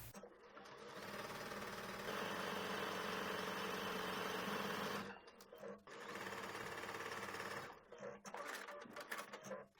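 A sewing machine stitches fabric for a ruffled skirt in long steady runs, with a sustained whir broken by brief pauses near five and eight seconds before resuming.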